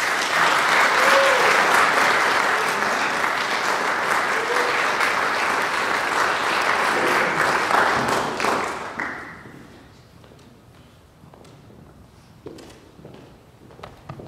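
An auditorium audience at a university event applauds loudly and steadily to welcome a speaker to the stage, the clapping fading after several seconds into scattered taps and footsteps.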